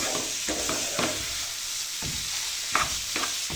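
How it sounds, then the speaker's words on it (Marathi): Tomato is stir-fried in a pan, a soft steady sizzle broken by a spatula's scraping and stirring strokes that come every second or so, with no talk. "इथं मी टोमॅटो आहे ना, तर तो टाकलेला आहे. असं परतून घ्यायचं."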